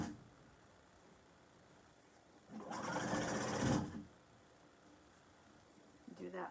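Sewing machine stitching an apron seam, one continuous buzzing run of about a second near the middle, close and clear, with a person talking quietly before and after.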